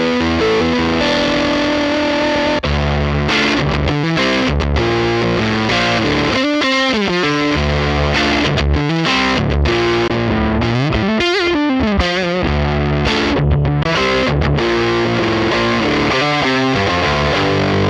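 An electric guitar runs through a TONEX 'Gritty' distortion tone, playing loud, saturated chords and riffs with heavy midrange, steadily and without a break.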